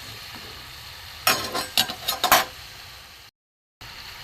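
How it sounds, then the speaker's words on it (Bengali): Mung dal fritters sizzle in hot white oil in a pan, with several bursts of loud crackling frying and stirring noise spread over about a second, then the sound drops away briefly. "লাল করে একটু ভাজবো।"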